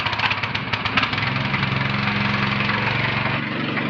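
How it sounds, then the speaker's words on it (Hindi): A homemade tractor engine idles steadily after starting, a loud, close, rough chugging drone with a fast regular knock and no talking over it. "ट्रैक्टर स्टार्ट हो गया है, बड़ा ट्रैक्टर जो खेत में भी जुताई कर सके है वो ट्रैक्टर स्टार्ट हो गया है"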